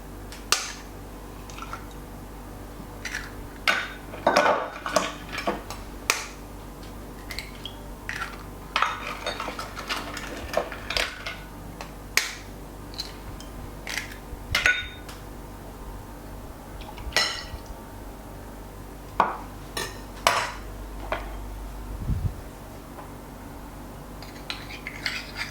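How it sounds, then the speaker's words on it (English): Eggs, milk and sour cream for a quiche Lorraine being mixed in a bowl, with scattered clinks and taps of a utensil against the dish over a steady low kitchen hum. "we're going to mix the eggs, the milk and the sour cream"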